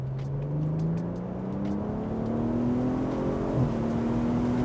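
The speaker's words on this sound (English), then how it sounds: "there's a little bit throttle blip" A rear-wheel-drive car's engine hums and climbs steadily in pitch, then gives one brief throttle blip near the end, close and fairly loud with no talking.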